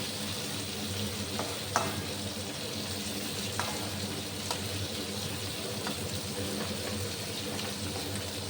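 Potatoes frying in a pan make a faint, steady sizzle with a few scattered sharp clicks over it.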